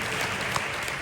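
An audience at a business presentation applauds in a steady, even wash of clapping hands, dense and continuous for a brief moment.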